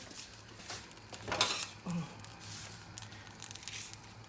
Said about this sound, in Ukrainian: Беремо цибульку, кришимо її